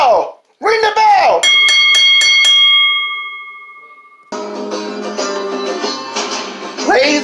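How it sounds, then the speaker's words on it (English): Ring-side bell at the end of a professional wrestling match rung in a rapid burst of about five clangs that ring out and fade, with an announcer's voice and crowd noise before and after. "Ring the bell! Ring the bell!"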